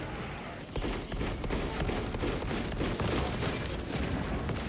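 Dense, continuous gunfire from a video game, loud rapid bursts overlapping into a sustained fusillade with heavy booms, and no voices over it.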